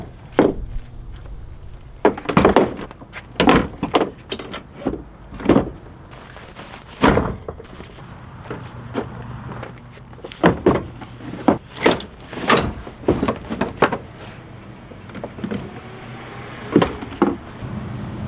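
Decked drawers in a Toyota Tundra truck bed slide and bang shut repeatedly, a series of loud sharp knocks and rolling thuds with gear rattling between them.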